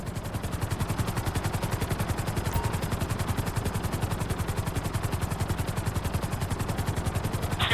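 Helicopter in GTA 5 flight school, its rotor chopping in a fast steady rhythm with engine whine, continuous and fairly close.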